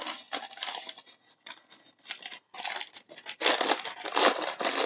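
Small plastic bags of model kit parts for a turret being torn and opened, crinkling and rustling in irregular bursts with short pauses, close and moderately loud.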